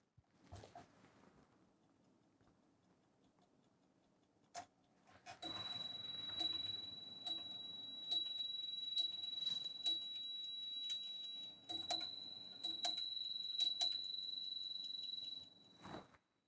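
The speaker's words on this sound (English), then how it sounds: "You could see the winding drums, and you could see the gongs and the bells that are striking." Czapek carriage clock sounding its gongs and bells, a run of bright ringing strikes with sustained metallic tones and quick repeated hammer hits, close and clear over a quiet ticking background.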